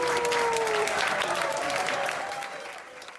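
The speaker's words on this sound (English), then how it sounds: "applauding the celebrity cruise ship staff on one of their final nights at sea" Cruise ship passengers applaud the celebrity cruise staff on one of the final nights at sea: steady, dense clapping from a large group with cheering voices, gradually fading toward the end.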